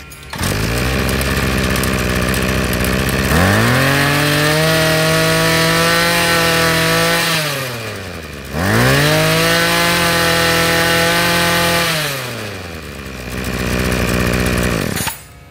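A used Japanese gasoline chainsaw on a test run revs loud and close, climbing to a steady high-pitched whine, dropping back toward idle, then revving up again for a second long burst.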